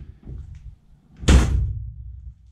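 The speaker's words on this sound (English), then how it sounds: "Bit rattly, that door" A Classic Mini's door shuts with a single solid, slightly rattly thunk after a brief soft click, loud and close in a quiet workshop.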